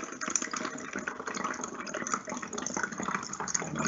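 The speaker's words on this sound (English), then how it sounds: "I'm going to gently pour a half bottle of water" Water is poured gently from a measuring cup through a funnel into a bottle on a tabletop, a steady close trickle and gurgle with no talking.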